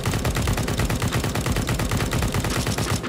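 An SG rifle fires full-auto in the Counter-Strike video game with its rate of fire reduced. Rapid, evenly spaced shots form a loud, continuous burst that lasts about three seconds before stopping abruptly.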